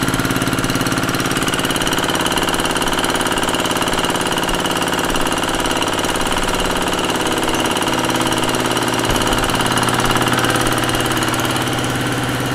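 A machine mixing organic fertilizer runs as a loud, constant engine drone with a heavy rhythmic rumble for the whole stretch, with no pauses.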